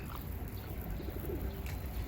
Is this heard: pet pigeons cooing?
yes